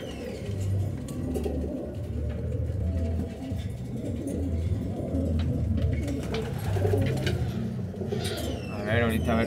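Racing pigeons cooing at a loft as young birds return from a futurity race, a steady low murmur of many birds throughout with occasional chirps, people talking nearby and a car engine faintly in the background.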